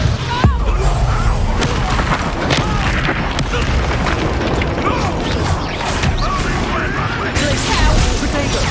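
Bombarda spell explosions boom in a Hogwarts Legacy duel, mixed into dense, continuous combat noise with crashes and bursts, and character voices talking over the fight.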